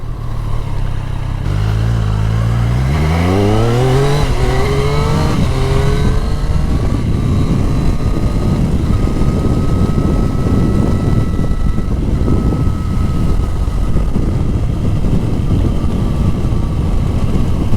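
A Triumph Street Triple RS motorcycle engine revs up smoothly on a road ride, pitch climbing through the gear before settling into a steady cruising drone with a constant rush of wind noise.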